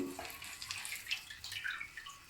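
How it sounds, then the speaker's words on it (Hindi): Raisins being rinsed and squeezed in water while making Punjabi daal panjiri, giving a steady, fairly quiet swish and trickle of water with small splashes and no voices. "1-2 पानी धो लें इसको, मिट्टी लगी होती है ना इसमें, तो अच्छी तरह निचोड़ लें इसको।"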